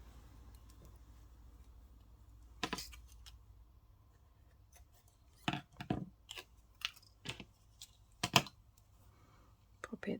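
Scissors snipping through a piece of fabric for a boro and sashiko table runner, a few sharp close cuts spaced apart against a quiet room, with faint talk in the background.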